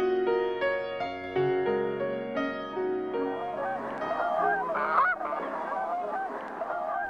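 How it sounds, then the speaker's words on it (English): Canada geese migrating north honk repeatedly, loud and clamorous, their calls overlapping and rising into a noisy chorus over a sustained low tone in the first seconds. "Canada geese are on their way back to their breeding grounds in the far north"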